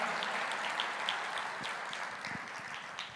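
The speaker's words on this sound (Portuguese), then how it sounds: "Você pode aplaudir ao Senhor por isso?" A church congregation claps in praise during a sermon, a fairly faint, moderately dense patter of hands with a few sharper individual claps standing out, tapering off near the end.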